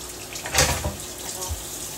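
Running tap water splashing over a chopping board being rinsed at a kitchen sink, a brief burst of gushing water with a sharp splash near the middle, then a quieter trickle.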